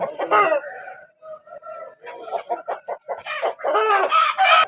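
A rooster offered for sale clucks and crows close by, loud and repeated, its calls coming in quick bursts with short gaps between them.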